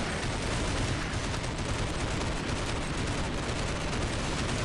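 Continuous loud gunfire in the zombie mode of Counter-Strike Nexon: Zombies, a dense rapid barrage of shots filling the whole stretch without pause.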